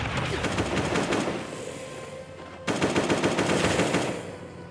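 AK rifle fire in the mobile game Last Day on Earth rattles in loud, continuous automatic bursts, with a brief drop in intensity midway before another sustained volley.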